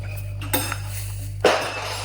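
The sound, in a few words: mixing vegan donut batter with a spoon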